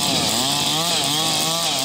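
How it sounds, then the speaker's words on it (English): Chainsaws carving a large block of wood into a totem at an outdoor event during APEC meetings make a loud, continuous engine whine that rises and falls in pitch as the blade bites. "using chainsaws to carve out the initial pieces from a large chunk of wood"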